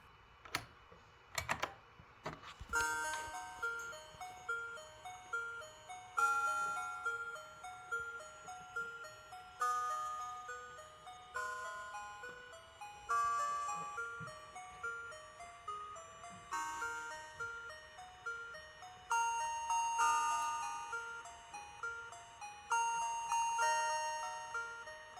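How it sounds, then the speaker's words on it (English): A Mozart sonata rendered as beeping electronic tones on a Hopper computer, with a thin, repeating melodic pattern that plays steadily after a few sharp clicks at the start, with no voices. "I quickly play the Sonata on my machine"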